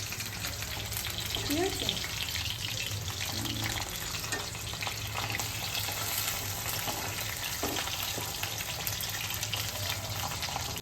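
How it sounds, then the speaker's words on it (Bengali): Fish pieces sizzle and crackle steadily in hot oil, slid in one at a time with a spatula; the frying hiss runs throughout with occasional scraping and a brief voice. "আমি খুন্তিতে করে একটা একটা মাছ দিচ্ছি"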